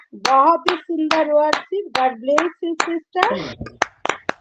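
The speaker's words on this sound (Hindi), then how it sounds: "आइए ऊंची ताली लगा है।" A worship gathering's call for loud applause brings sharp hand claps at irregular intervals, near and fairly loud, mixed with spoken voices throughout.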